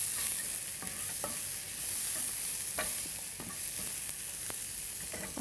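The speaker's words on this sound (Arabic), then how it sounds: "شوية نحرك. شايفين البصل قاعد ياخذ كل النكهات اللي هني" Onions stirred in a hot frying pan for a beef tortilla filling, a steady sizzle with scraping spoon strokes every second or so, close and continuous with no talking.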